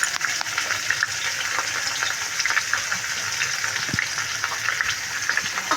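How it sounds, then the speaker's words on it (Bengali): Fish pieces coated in salt and turmeric fry in a pan, giving a dense, steady, close sizzle with faint crackles throughout and no talking. "মাছগুলি ভাজা হচ্ছে"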